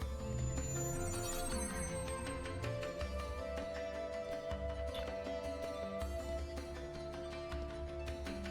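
Phone ringing in the video game Grotesque Umbrella, a repeating electronic ring tone pulsing steadily over game music, fairly loud and close throughout.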